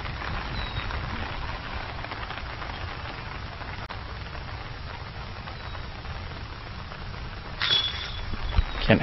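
Steady rain patters down across an outdoor disc golf course during a tournament round, a constant hiss of drops on surfaces, with a few louder splashes near the end.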